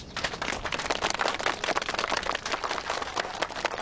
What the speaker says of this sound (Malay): Berikan tepukan padanya. Tepuk!